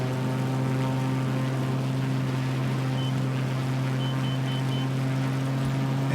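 Aircraft engine running at full throttle for takeoff in Microsoft Flight Simulator over Liechtenstein, a loud steady droning hum with a strong low tone, continuous and unchanging throughout.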